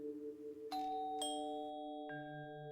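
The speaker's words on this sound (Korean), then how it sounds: "초인종을 누르니 남자가 나왔다." A two-tone ding-dong doorbell chime rings out clearly, followed by a lower third note, over a faint steady hum with no voices.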